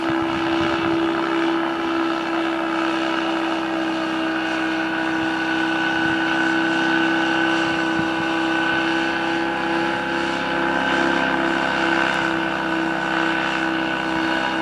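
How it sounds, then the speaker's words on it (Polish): Rotax engine of a motorized hang-glider trike running steadily, a loud, even, buzzing drone with a constant pitch that holds for the whole stretch with no talking. "silnik Rotax 387 czy 378 nie pamiętam"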